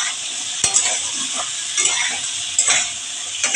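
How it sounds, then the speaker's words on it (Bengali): Steady sizzling from a pan of taro pieces frying with turmeric, close up, with a few sharp scraping clicks as the pieces are stirred. "একটু ভেজে নিতে হবে।"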